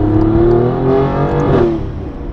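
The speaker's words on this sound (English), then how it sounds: "now that we've established that the external blow-off valve adapters sound cool" Alfa Romeo Giulia Quadrifoglio turbo engine fitted with external blow-off valves, a loud close revving drone with a brief breathy release whoosh near the end, no voices.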